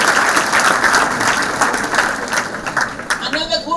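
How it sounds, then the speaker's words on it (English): Students applaud loudly at a school talk, a dense wash of clapping from a sizeable crowd that starts full and slowly thins toward the end, with some voices mixed in. "Why don't you clap again for yourself?"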